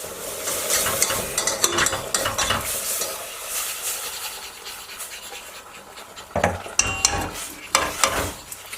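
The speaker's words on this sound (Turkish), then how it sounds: "Sürekli karıştırıyoruz." Béchamel with warmed milk is stirred in a pan with a utensil, giving close, uneven scraping and swishing strokes over a soft bubbling sizzle, louder bursts at the start and toward the end, no voices.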